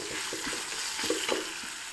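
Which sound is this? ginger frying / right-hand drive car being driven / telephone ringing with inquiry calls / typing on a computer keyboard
ginger frying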